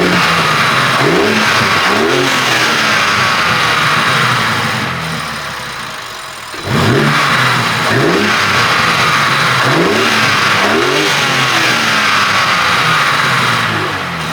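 A BMW G80 M3 sits parked while its engine is revved hard in repeated loud surges, dropping briefly toward idle midway before climbing again, close and continuous with no talking.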